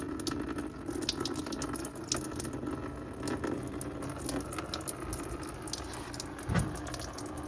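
Engine fluid trickles from a partly loosened drain plug into a catch container beneath an LS3 engine during teardown, a steady faint watery patter running the whole time with one brief louder splash near the end.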